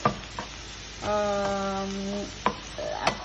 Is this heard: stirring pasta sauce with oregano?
yes